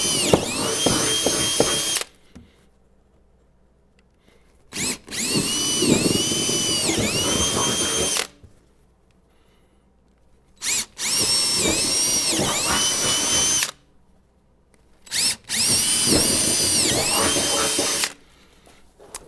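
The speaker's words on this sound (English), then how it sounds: "I've got an appropriately sized drill bit. I'm going to go ahead and drill holes." A power drill bores holes while a Nitrous Express nitrous kit is being installed. Four close, loud whining bursts of a few seconds each, with short quiet pauses between them.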